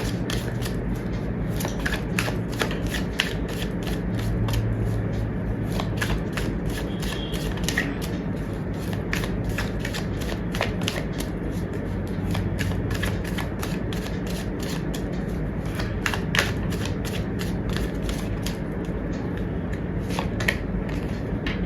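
A deck of tarot cards is shuffled in rapid, steady riffling bursts, crisp and close, repeating evenly over a low background hum with no talking.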